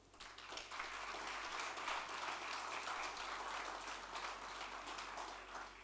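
Guests at a ceremony in the Slovenian pavilion for Slovenia's national day at the Expo applaud warmly, steady, moderately distant clapping from a large audience over a low electrical hum, lasting the whole stretch.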